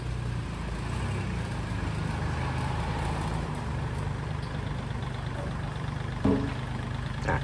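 Steady idle of a Kubota L3608DT 36-horsepower diesel tractor fitted with a front blade and disc plough, a constant low chugging drone close by, with a brief clunk near the end.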